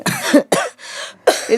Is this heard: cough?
yes